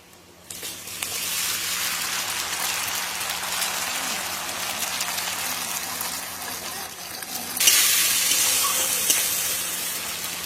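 Sliced onion frying in oil in a pan, a steady broadband sizzle and hiss that runs continuously and swells louder near the end, with no talking.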